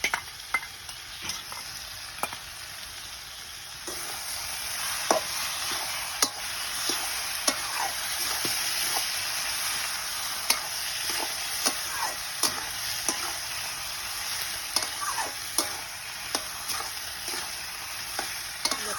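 Fresh green ash gourd frying in a pan with cumin paste and ginger paste, a bright, constant sizzle broken by frequent sharp clicks and scrapes of a spatula stirring close by, no voices.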